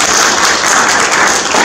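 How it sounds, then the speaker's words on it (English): A press-conference audience gives elite marathon runners a round of applause, a short burst of steady, dense clapping from a room full of people at moderate loudness. "And a round of applause."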